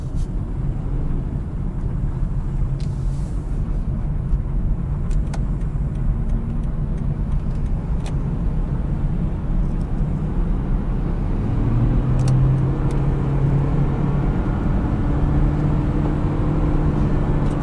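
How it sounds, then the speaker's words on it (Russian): A 2011 Lexus CT200h hybrid hatchback accelerating toward 100 km/h from inside the cabin, a steady low engine and road drone that rises slightly and thickens in the second half, with faint ticking clicks. "Шум, конечно, двигателя присутствует, но тем не менее вот сотня."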